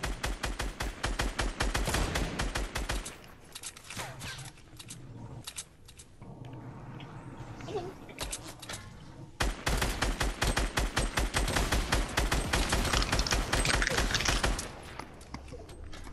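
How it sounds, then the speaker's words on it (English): Fortnite battle royale gunfire: dense, rapid automatic shots rattle almost nonstop, pausing briefly in the middle before picking up again, with mechanical game clatter mixed in. "They're shooting back at us."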